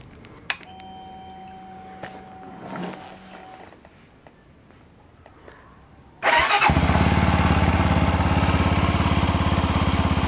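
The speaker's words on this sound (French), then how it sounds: "il y a un très beau bruit d'échappement. Avec un son bien rauque comme on les aime à la reprise." After a few quiet clicks and beeps, a Mash 400 Five Hundred motorcycle starts up close by, and its engine settles into a loud, steady, throaty idle through the exhaust.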